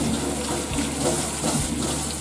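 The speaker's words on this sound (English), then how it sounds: "We're going to brush the lemon under hot water just to get the wax of the skin." Hot tap water runs steadily into a sink while a lemon is brushed under it to remove wax, a close continuous splashing stream with faint scrubbing.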